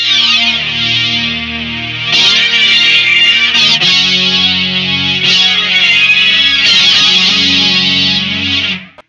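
Loud synth-processed guitar from a Boss SY-1 pedal plays a run of sustained, buzzy chords that change every second or two, then cuts off sharply at the end; no voices.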